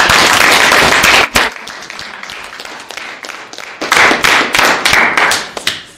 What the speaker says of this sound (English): everybody give a round of applause for the seniors